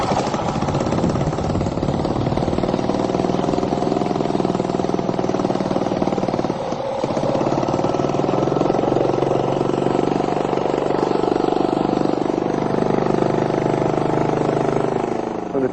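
A GEET engine said to run on water drones steadily at a constant idle-like pace, loud and close, with one brief dip midway and no voices.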